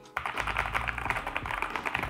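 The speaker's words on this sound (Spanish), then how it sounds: "se trata de un teclado mecánico, un teclado que además no solo es mecánico, sino que el ruido que hacen las teclas es bastante, pero que bastante gratificante" Rapid clattering keystrokes on a mechanical keyboard, part of an MSI mini PC desk setup, tapping steadily and close up without pause, with no talking over them.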